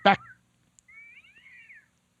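A cat meows once in a thin, drawn-out, wavering call, fairly near and quiet, just after a short burst of a person's voice.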